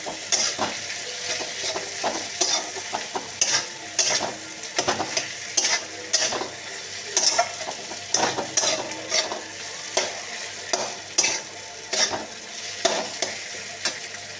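Ground coriander and cumin sizzle in hot oil in a pan while being stirred for pea ghugni, a steady fry with repeated scraping strokes of a spoon against the pan.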